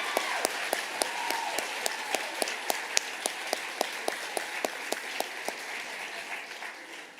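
An audience at a high school awards ceremony gives steady, fairly faint applause, with many hands clapping continuously for several seconds, heard from a distance.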